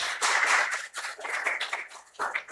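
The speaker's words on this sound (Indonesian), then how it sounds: "Boleh kasih tepuk tangannya?" A small seminar audience claps in uneven bursts, nearby and fairly quiet, with the clapping dipping and swelling in short waves.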